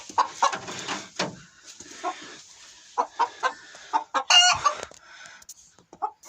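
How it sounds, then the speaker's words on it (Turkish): An ispenç rooster clucks in a string of short, close calls with brief pauses between them, set against quiet farmyard background. "Şöyle güzel bir ispenç horozu."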